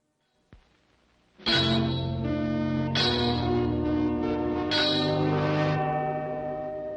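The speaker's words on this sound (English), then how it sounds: "we have the warning bell on the roll call" A US Senate roll call warning bell rings in a hearing room during the Watergate hearings, three loud sustained electric bell tones in a row, each a couple of seconds long, ringing on with slight echo.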